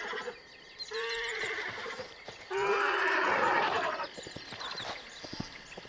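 Horses in the video game Hytale neigh and whinny in several loud bursts, one after another, close by and with no talking.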